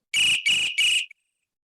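A frequency-resonance electronic whistle of the kind used by traffic police sounds three sharp, piercing shrill bursts in quick succession, each about a third of a second, loud and close with silence after.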